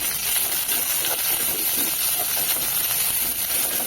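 Leafy greens frying in hot oil tempered with radhuni seed and garlic, a steady close sizzling hiss with no talk.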